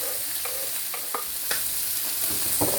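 Chopped onion, garlic and parsley frying in a pan for turkey paupiettes, a steady soft sizzle with scattered stirring clicks and scrapes, close and moderately loud, no talking.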